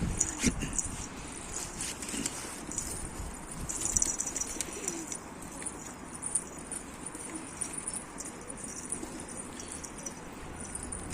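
Wild pigeons coo repeatedly at close range, soft rolling calls recurring among other faint bird sounds and outdoor background noise.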